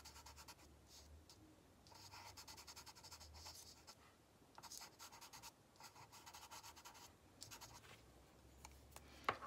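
Soft scratchy strokes of pencil shading over paper on a charcoal drawing of clouds, quiet and close, coming in short bursts with pauses in between.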